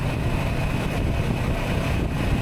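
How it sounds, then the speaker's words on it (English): A 2023 Kawasaki Versys 650 LT motorcycle drones steadily while being ridden on the road around 45 mph, its engine noise mixed with rushing wind in a dense, continuous roar that stays loud throughout. "The engine revs really quickly."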